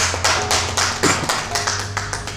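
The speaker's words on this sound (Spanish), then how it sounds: "¿Cuántos le dan un fuerte aplauso al Señor?" A church congregation claps steadily in fast, even beats during a Bible class on the commandments. The applause is close and loud, with no voices over it.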